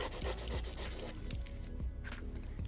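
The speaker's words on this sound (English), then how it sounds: "now you're going to go ahead and grab something and just squeegee that" A squeegee rubbing a glued paper egg-basket template flat, making close, scratchy strokes in quick irregular bursts with light thumps, and no voices.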